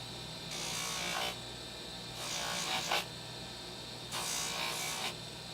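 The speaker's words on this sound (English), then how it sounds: "I want to test my wheel buff" A spinning buffing wheel without compound polishes a convex oval in three separate bursts of harsh rubbing whir, each lasting about a second, with a faint motor hum between them.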